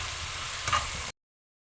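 Cabbage frying in a frying pan, a steady close sizzle and crackle with a brief stirring bump, cutting off abruptly into silence.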